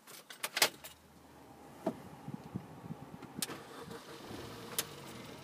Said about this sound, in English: whilst we start up the vehicle